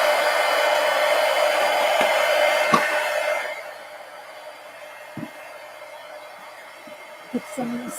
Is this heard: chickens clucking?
no